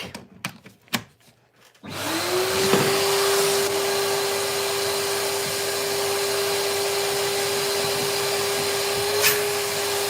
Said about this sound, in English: Bit of noise with the old vac.